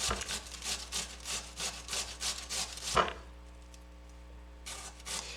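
Hand grater used on food, a close, quiet series of rhythmic rasping strokes, a brief pause, then a few more scrapes near the end.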